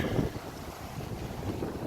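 Wind gusts across an open park field in Baltimore on a cold day, a steady rumbling blow buffeting the microphone without any voices.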